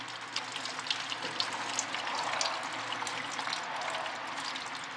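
Fluid pours out in a steady splashing, hissing stream as the water pump is being removed from a Datsun 280Z, close and constant throughout.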